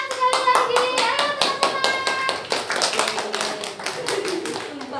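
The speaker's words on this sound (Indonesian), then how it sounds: "Tepuk tangan sekali lagi." A school class claps their hands together in a quick, uneven burst of many sharp claps. The clapping is close and loud and fades slightly toward the end.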